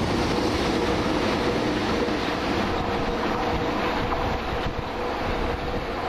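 A London Underground Piccadilly line train runs past on surface track, a loud continuous rumbling rattle of wheels and carriages filling the whole span close by, with no voices.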